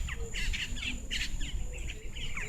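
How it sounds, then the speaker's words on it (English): Birds chirping and squawking outdoors, a busy chorus of repeated bright calls from several birds close by, over a steady insect-like hum and low background rumble. "there's like birds chirping everywhere"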